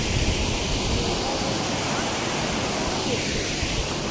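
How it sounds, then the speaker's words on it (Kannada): Water of Dhaba Dhabi waterfall flowing along its stream, a loud continuous broadband rush with no breaks, steady and close throughout. "ಫುಲ್ ಇವು ನೀರು ಹೀಗೆ ಹರ್ಕೊಂಡು ಮುಂದ್ಗಡೆ ಹೋಗ್ತಾನೆ ಇರುತ್ತೆ ನೀರು"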